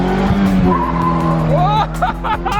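A Ford Expedition revs hard and the clutch is dumped, tires squealing loudly as the engine roars close by, with people talking over the noise.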